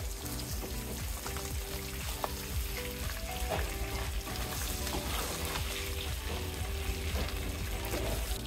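Potato pieces fry in oil left from frying katla fish, a quiet steady crackle and sizzle running evenly without any voices.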